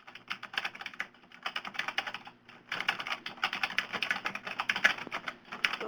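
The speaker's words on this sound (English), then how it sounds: "Somebody's typing and is not on mute." Rapid computer keyboard typing comes through an unmuted webinar call line, close and continuous in bursts with a brief pause midway.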